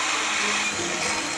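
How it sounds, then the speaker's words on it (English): A power drill bores holes in a new replacement radiator for a V8 Jaguar, a steady high-pitched whine held for the whole short stretch, loud and close with no talk. "I marked where we'd need to drill on the new one and made the holes."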